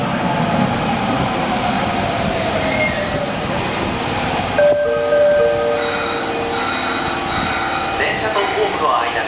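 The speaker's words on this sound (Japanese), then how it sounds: "到着の電車は" An Osaka Midosuji Line subway train, a series 21 set, rumbles into Umeda station with rushing noise and hiss, a tonal brake squeal rising partway through, while a Japanese voice announces a Shin-Osaka-bound train overhead.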